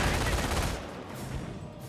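Mortar fire in a Company of Heroes 1 match between Wehrmacht and British forces, a dense burst of booming shots and crackling gunfire that fades over two seconds.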